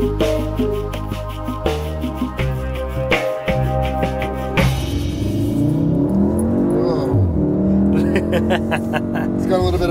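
A 2016 VW Golf R accelerates hard on a race track, its engine note loud and close as it climbs through the revs, with a gear change partway through and a rising whir afterward.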